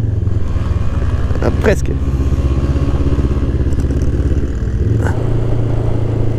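A 125cc motorcycle engine drones steadily and loudly while accelerating uphill, with a couple of quick gear or throttle changes, as a rider talks briefly over it.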